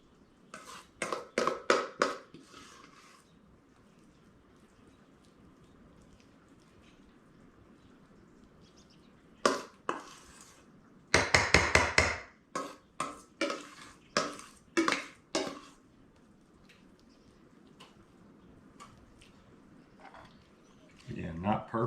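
Cottage pie ingredients are stirred in a pan, with bursts of rapid scraping and clattering strokes coming in separate runs between quiet stretches, close by, as a voice talks at times.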